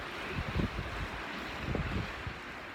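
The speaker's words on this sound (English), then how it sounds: "I do apologise if it's windy" Wind blows across the east beach at La Linea, buffeting the microphone in low, uneven gusts with a faint surf-like wash behind, fairly quiet and with no one talking.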